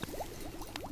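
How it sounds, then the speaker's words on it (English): Liquid bubbling in a pot in a cozy hut, a quick run of soft wet pops and blips, close and quiet, lasting under a second. "It sounds like it started bubbling."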